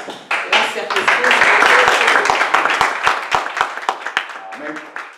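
A church congregation claps for Jesus, a burst of loud applause that swells quickly, holds, then thins into scattered individual claps, with voices calling out over it.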